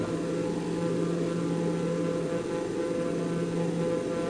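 Steady, continuous drone of a propeller airplane engine in Microsoft Flight Simulator 2020 during a descent, a loud unbroken hum with a low tonal whine and no talk.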